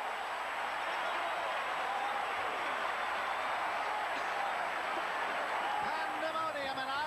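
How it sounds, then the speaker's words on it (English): A packed college football stadium crowd in Iowa City roars continuously as fans rush the field after the Iowa Hawkeyes beat Ohio State in 1983, the dense cheering heard under a broadcast announcer's excited commentary. "The crowd is surging out onto the field all over it."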